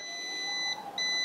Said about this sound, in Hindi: ये भी बीप आ रहा है